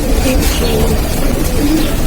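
Soft, low cooing of pigeons in Novxani, Baku, several overlapping calls over a steady background noise, close by.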